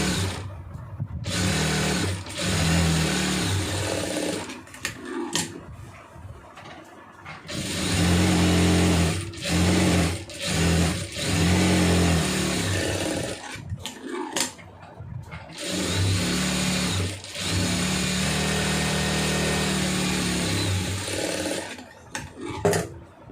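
A sewing machine stitches a churidar pant in long, loud, steady whirring runs, stopping and starting with short pauses between bursts, alone with no talk.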